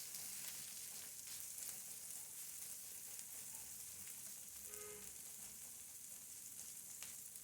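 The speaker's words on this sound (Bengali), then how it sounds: "কাঁচামরিচ আর পেঁয়াজ তেলের ভিতর খুব ভালো করে ভেজে নিব।" Green chillies and onions fry in hot oil for a small-fish dish, giving a steady, soft sizzle that runs continuously and fairly quietly with no voices over it.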